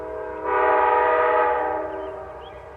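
A slow Amtrak passenger train sounds a single long, loud multi-tone horn blast that swells quickly, holds, then fades away over a faint low rumble.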